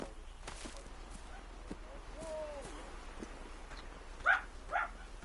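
Dogs barking indoors near a person playing a video game, a couple of short muffled barks near the end over faint background noise and quiet game sounds.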